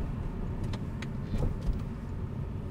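A car engine hums at moderate level as the driver releases the clutch after a gear change and pulls away, a steady low drone with a slight swell midway.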